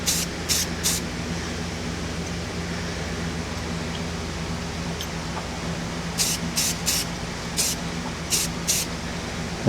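Spray paint coating a metal pen blank tube, short bursts of aerosol hiss, a few quick sprays at the start and a rapid series near the end, over steady room hum.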